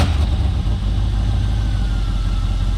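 An LS-swapped muscle car engine with poor exhaust idles steadily and close by, a low, even rumble with slight pulsing that holds through the whole stretch and has no voices over it.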